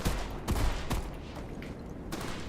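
Shotgun blasts in the Escape the Liminal Dome video game, two loud close shots about half a second apart near the start, then a fainter follow-up report over a low rumbling background.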